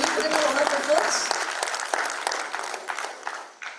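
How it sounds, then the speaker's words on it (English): An audience applauds award winners at a CAHOTECH 2025 ceremony: a dense, steady wash of clapping that slowly thins and fades, with voices murmuring underneath. "We request you all to please clap"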